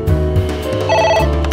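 A telephone rings inside the video game AI Somnium Files, a steady electronic ringtone with a warbling tone, loud and close with a low hum under it and no voices.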